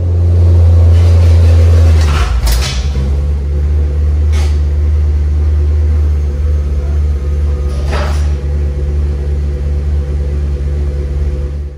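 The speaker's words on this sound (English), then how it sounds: "getting the car up on the ramps is no harder than any other ramp" A car engine idling loudly up close, then shifting and moving as it climbs onto hydraulic car ramps, with a few sharp knocks and clunks along the way and a low steady hum throughout, no talk.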